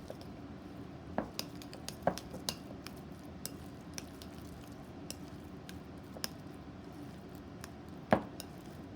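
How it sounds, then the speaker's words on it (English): Cheese filling for tortellini stirred in a bowl, making quiet wet squishing under sharp, sporadic clicks and taps of a utensil against the bowl, close and fairly faint, with no talking. "With your cheese mixture, you're going to give it a good stir."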